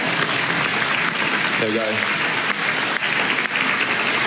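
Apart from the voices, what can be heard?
audience applause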